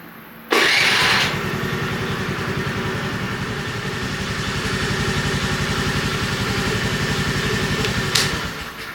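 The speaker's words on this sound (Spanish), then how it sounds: "vamos a darle aquí vuelta al switch y vamos a arrancar nuestra moto por unos 3 a 5 minutos" A Honda Navi motorcycle's engine cranks and catches, then settles into a steady, throbbing idle that runs evenly for several seconds, close and loud, with no talking.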